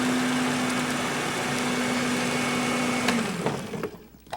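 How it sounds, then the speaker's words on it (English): A kitchen blender spins at a steady high-pitched whine for several seconds before winding down and stopping, with no talking over it. "We'll shut up and spin the blender."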